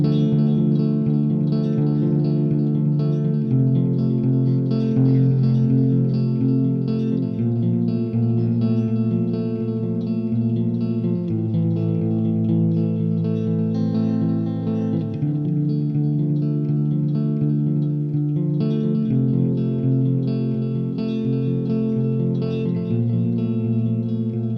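ECHOFIX EF-X2 tape echo delay, a modern take on the Roland RE201 Space Echo, shaping a sustained musical line into loud, continuous repeating echoes with a dense reverberant tail throughout.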